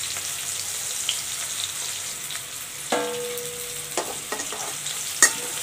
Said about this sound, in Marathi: तर म्हणून हे परतून घ्यायचे थोडे तेलामध्ये.